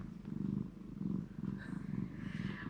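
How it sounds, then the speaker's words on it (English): A content cat purrs in a lap while having its head scratched, a close, rhythmic rumbling purr with regular inhale-exhale pulses, no talking. "a purring fur monster in his lap that is quite content to sit there and purr away"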